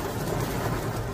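Steady, dense patter of heavy rain with hail, a continuous broadband roar with no voices.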